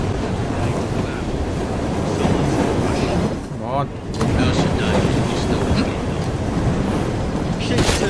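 A train ride in the video game Assassin's Creed Syndicate, set in Victorian London, with a constant loud roar of rushing wind and rumbling carriages that briefly dips midway, as someone talks over it.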